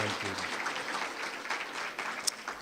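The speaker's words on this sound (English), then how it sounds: "Please give a round of applause for our top management" Applause at a conference gala dinner for top management, a soft, fairly distant patter of clapping from the room, with a voice faintly heard at the start.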